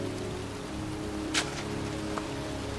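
Steady pouring rain falls across a cemetery in the video game Heavy Rain, a constant soft hiss with a couple of brief louder drips or splashes standing out, and no voices.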